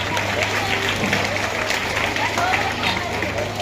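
Applause and crowd noise fill a school admission ceremony in Pardi 2 village, Lodhika taluka, Rajkot district, a steady wash of clapping mixed with background babble and a constant low hum.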